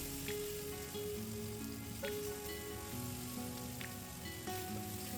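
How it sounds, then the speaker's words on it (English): Vegetables browning in a pan for German braised pork ribs: a quiet, steady sizzle with a few faint clicks of stirring, heard alone without talk. "The vegetables should be nicely browned at the end of the process."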